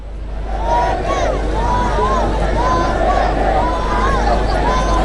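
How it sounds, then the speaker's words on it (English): A large protest crowd gathered at Galle Face in Colombo makes a steady murmur of voices and babble, with scattered calls and passing traffic in the background. "A large crowd has gathered here today"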